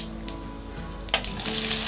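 Cumin seeds and asafoetida hitting hot oil in a kadhai while making paneer Kolhapuri, giving a steady close sizzle and crackle with a brief louder spit midway, no talking.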